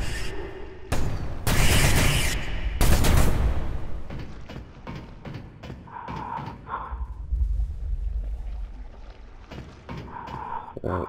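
SMG fire in the game CDF Ghostship comes as a cluster of loud, sharp shots early on, followed by quieter in-game thumps and ambient hum.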